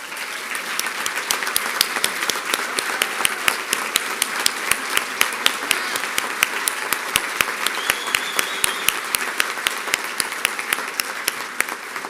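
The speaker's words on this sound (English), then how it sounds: "we could give them all a round of applause" Sustained audience applause at a school awards ceremony honoring teachers and employees of the year, dense steady clapping with sharp individual claps standing out, continuing evenly throughout with no talk.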